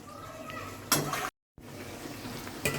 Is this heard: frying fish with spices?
yes